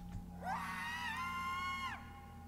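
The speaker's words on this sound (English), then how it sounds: "Those screams! I have to help whoever is in there!" A scream rings out from a room in the video game Re:Turn One Way Trip. It comes as a single sustained, shrill cry of about one and a half seconds over a low steady hum, fairly close and loud.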